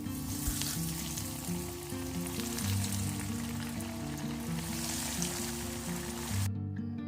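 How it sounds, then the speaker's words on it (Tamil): Sri Lankan half moon snacks coated in biscuit crumbs fry in hot oil with a loud, continuous, close sizzle that holds steady and then cuts off abruptly at the end. "நாம் நல்லா ஹீட்டான ஆயிலை போட்டு நல்லா ஃப்ரை பண்ணி"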